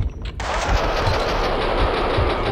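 Sustained rapid gunfire in Max Payne 2 rattles loud and close in a continuous automatic burst after a brief quiet start, with no speech.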